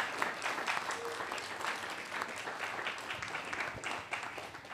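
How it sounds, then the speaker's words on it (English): A round of applause from an evening book-event audience, a steady wash of many hands clapping, moderately distant and even throughout. "could we please give a round of applause for Bill Lacey as interviewer this evening?"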